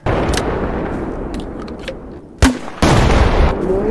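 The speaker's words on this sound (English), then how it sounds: "How about the grenade launcher?" A grenade launcher fires in the Minecraft Decimation Mod video game, with a loud sharp blast and a second heavy boom that rings on over steady rumbling game noise.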